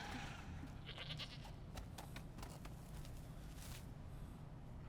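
A goat bleats in a dramatic scene from House of the Dragon, a few faint cries buried under a loud, dense wash of score and ambience.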